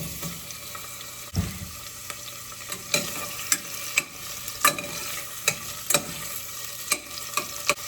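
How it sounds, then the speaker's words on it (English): Sliced onions and green chili fry in coconut oil for a chicken curry, a soft steady sizzle with repeated sharp spatula scrapes and clicks against the pan. "as soon as the coconut oil starts melting, we're going to add the onions and green chili"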